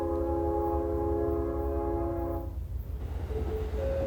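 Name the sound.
bullet train arriving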